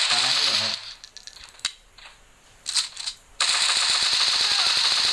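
Automatic gunfire from a video game rattles in rapid, loud bursts at the start and again after a brief lull, with a few isolated clicks and shots in between.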